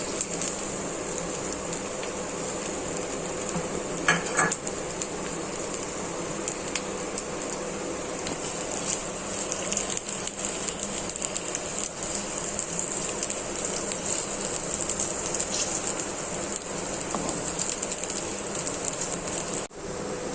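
Onions fry in hot cooking oil in a karahi for a restaurant-style koila karahi, producing a steady, close, rain-like sizzle and crackle that runs unbroken throughout, with a few faint clicks and no voices.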